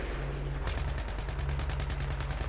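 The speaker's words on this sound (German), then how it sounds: "Wie viele Schüsse sind das eigentlich?" Gunfire in the video game Battlefield 3: a rapid, evenly spaced burst of automatic shots begins after a brief lull and keeps hammering steadily to the end, fairly quiet in the mix.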